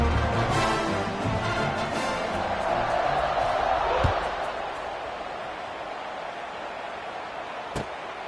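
College football video game stadium crowd cheering before a kickoff, a dense roar that swells toward the middle, with a sharp thud near the peak and another crisp hit later as the noise eases.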